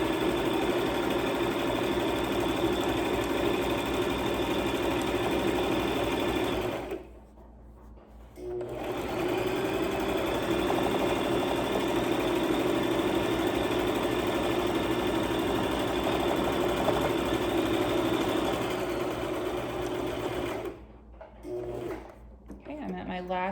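A sewing machine stitches a log cabin pillow with a fast, steady mechanical whir, loud and close, stopping briefly twice as the needle is pivoted at corners before the stitching resumes.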